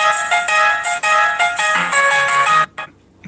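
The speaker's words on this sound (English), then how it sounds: "I'm getting a phone call." A phone ringtone for an incoming call plays a bright, repeating electronic melody, loud and close, for about two and a half seconds before cutting off abruptly into near silence.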